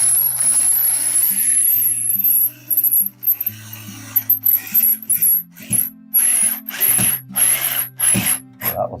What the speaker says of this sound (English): putting flathead screws on these wall plates